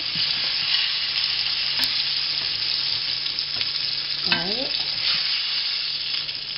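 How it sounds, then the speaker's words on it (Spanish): Iberian pork cheeks sear in hot oil in a pan, a loud steady sizzle with some stirring and a brief scrape partway through. "yo ya he sellado la carne esta es la última ya"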